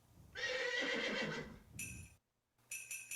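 A horse whinnies as a sound effect in a holiday song, a loud, bright neigh that trails off, then a short pause, followed by a few jingling sleigh-bell shakes.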